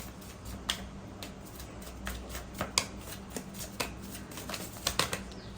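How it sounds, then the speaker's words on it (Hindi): Tarot cards being shuffled, with soft riffling and a series of sharp clicks and flicks as cards pop out of the deck, close and fairly quiet, with no talking. "I just need one card, और कितने सारे कार्ड्स पॉप आउट हो रहे हैं यहाँ पे"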